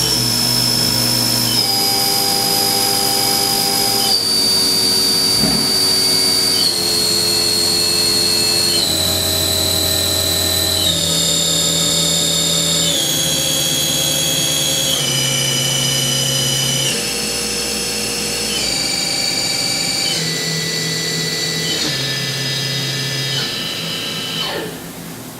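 A Haas VF-2D CNC vertical machining center spindle spinning up to about 9,000 RPM, a steady loud whine climbing in stepped pitch increments, then easing back down near the end, with no talk.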